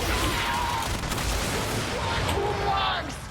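The Athodai hand cannon fires in Warframe against corrupted heavy gunners, rapid close gunshot bursts mixed with game impact crashes and electronic effects, dense and continuous over the short stretch.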